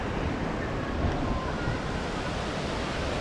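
The Aliwagwag waterfall in Davao Oriental pours into a deep pool, making a steady, dense roar of falling water that fills the scene without letup.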